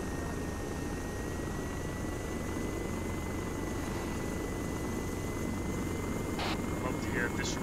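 An Arma 3 helicopter lifts off with a steady, loud rotor and engine drone throughout, people talking over it on radio.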